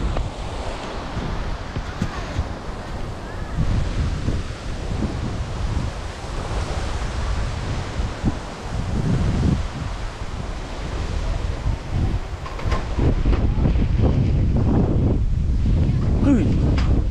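Storm wind blows across a rooftop, roaring and gusting continuously and buffeting the microphone, with rougher surges toward the end.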